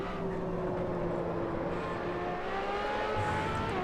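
A Ferrari LaFerrari in Assetto Corsa at Spa-Francorchamps holds a steady high-revving engine note, loud and close, with the pitch shifting slightly as the car drives on.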